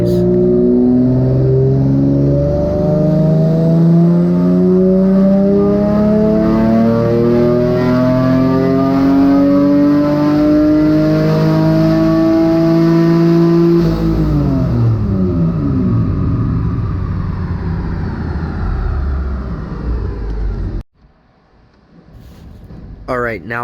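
A twin-engine Mazda MX3 with Megasquirt tuning roars at full throttle on a dyno, its loud rising engine note climbing steadily, then dropping away before cutting off sharply near the end.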